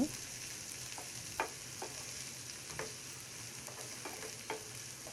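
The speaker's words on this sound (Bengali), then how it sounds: "এক কাপ পেঁয়াজ কুচি দিয়ে নেড়ে চেড়ে হালকা ব্রাউন করে ভেজে নেব" Chopped onions frying in oil with cinnamon, cardamom and bay leaf for a spicy lote fish curry, a soft, quiet sizzle broken by occasional spatula scrapes and stirs at irregular intervals.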